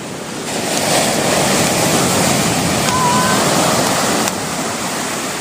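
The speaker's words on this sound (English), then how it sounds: "Really wild sea here, the boys better be careful." Wild sea waves crash and roar continuously onto the shore at Cable Bay as the tide comes in, loud and close with heavy wind noise on the microphone and no speech.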